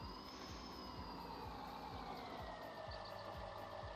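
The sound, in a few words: truck engine in Farming Simulator video game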